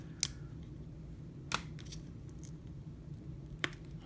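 Trading card being peeled away from old stuck gum, with a few sharp, brief paper-tearing rips spaced apart over a quiet background hiss.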